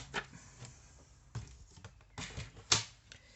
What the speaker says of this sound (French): Ma paire de ciseaux pour compléter.